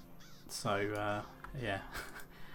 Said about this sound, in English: So if you do need to farm your crows, this is the best place to do it by far.